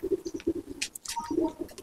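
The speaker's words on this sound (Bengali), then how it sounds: "চিচি করছে বাচ্চা।" Pigeons in a loft, with chicks among them: soft rhythmic cooing pulses close by, broken by a few brief, thin high-pitched cheeps.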